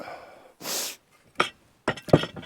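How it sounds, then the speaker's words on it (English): A man sniffs several times in short, sharp bursts while working on a stone barn renovation among slate and stone debris, heard close with quiet pauses between. "Must stop sniffing."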